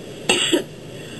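A single short, sharp cough, close and fairly loud, with a quiet room around it.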